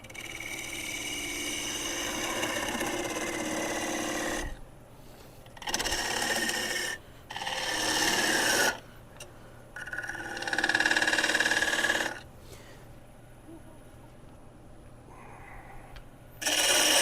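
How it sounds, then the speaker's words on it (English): A smaller gouge cutting wood on a wood lathe, a steady rasping, whirring scrape in several bursts of a second or two, separated by quieter stretches of the running lathe. "Get myself in here to clean her down a little bit. Grab a smaller gouge."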